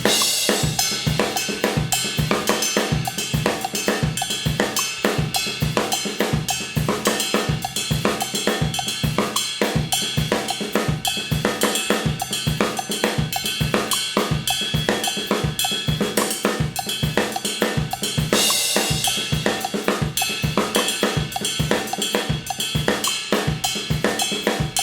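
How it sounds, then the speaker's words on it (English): A drum kit plays a steady Songo groove with hi-hat splashes on the and of two and four, a dense, loud, continuous pattern of tightly repeating hits throughout, with no talking. "The first measure is going to be just a straight ahead Songo pattern"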